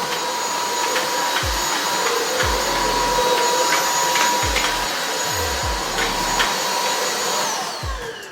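A Nilfisk S1 Allergy vacuum cleaner running loud and steady with a high whine, interrupted by repeated low thumps and swishes as the nozzle is pushed back and forth across the floor.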